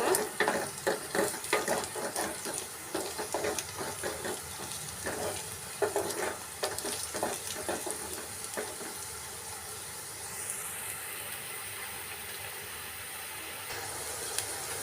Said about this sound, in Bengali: এবার আমি সবগুলোকে একটু নেড়ে ছেড়ে ভেজে নেব